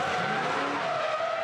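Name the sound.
V8 ute race car skidding after locking rear brakes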